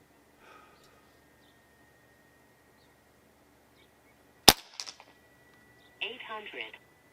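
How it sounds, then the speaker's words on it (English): A single sharp crack from a Crosman Prospect .22 PCP air rifle stands out in a quiet setting, followed by a faint pellet impact and a brief later burst of rustling. "Let's take a sighter and we'll do a 5-shot group."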